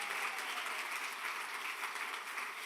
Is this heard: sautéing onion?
no